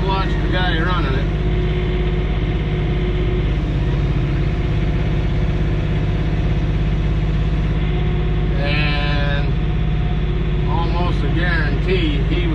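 A John Deere 3039R compact tractor engine runs steadily and loud throughout while moving dirt with a dump wagon, a constant low rumble with people talking over it.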